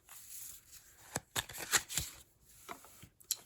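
Personality cards for a tarot reading being shuffled by hand, a close series of crisp riffling and slapping bursts with brief pauses between, no talking.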